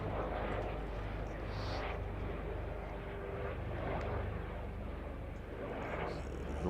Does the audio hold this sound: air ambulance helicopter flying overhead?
yes